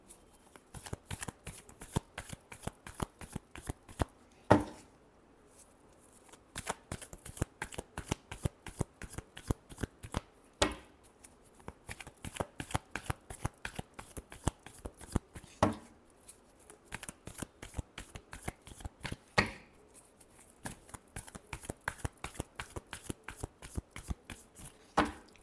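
A deck of tarot cards is shuffled over and over, each pass a quick papery riffle of crisp slaps, with brief pauses between bursts, close and continuous for the whole span.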